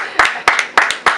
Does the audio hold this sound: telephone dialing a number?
no